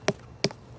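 Two hollow knocks on a ripe watermelon, spaced about a third of a second apart, each a short dull thump with a brief ring, heard close and alone in a quiet room.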